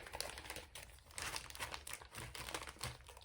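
Close, steady crinkling of packaging from cross-stitch supplies, a continuous rustle with small bursts and no speech.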